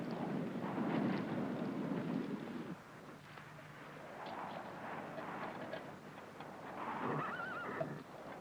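A horse in the desert gives a faint whinny, with soft hoof sounds in a quiet, distant setting and no speech.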